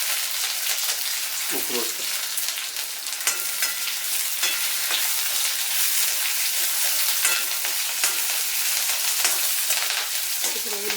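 Curry leaves and green chilies frying in a pan for a tindora coconut curry, a continuous close sizzle with occasional stirring scrapes, a voice briefly speaking.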